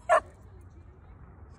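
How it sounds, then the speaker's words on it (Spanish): A dog in a dog park lets out a single short yip or bark, close and sharp, followed by quiet background. "aquí pueden ver uno de los perros que quiere hacer amistad"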